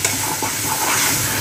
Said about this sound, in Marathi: चला छान असं मिक्स करून घेऊया.